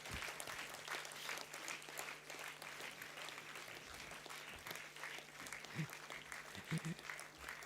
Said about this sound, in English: Put your hands together louder